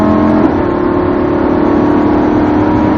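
A Lamborghini engine drones loudly and steadily as it accelerates on a race track, a dense close mechanical roar holding a strong sustained tone with no clear gear changes.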